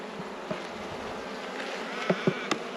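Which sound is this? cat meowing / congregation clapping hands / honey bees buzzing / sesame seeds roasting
honey bees buzzing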